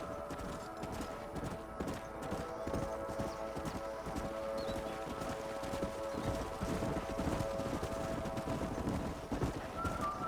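Horse hooves clip-clop steadily in Red Dead Redemption, a rhythmic trot of several horses close by over a constant bed of ambient game sound, with brief speech and a possible whinny mixed in.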